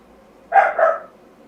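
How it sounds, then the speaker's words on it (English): A pet dog gives two quick barks close by, a sharp bark followed almost at once by a second, in an otherwise quiet room. "my dog is barking"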